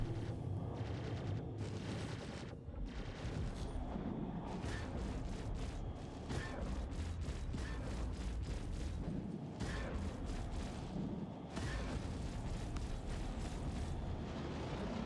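Ship cannons on a Hurricane fighter in Star Citizen fire in sustained rapid bursts during a strafing run, a dense, loud continuous barrage with brief pauses and booming low rumble throughout.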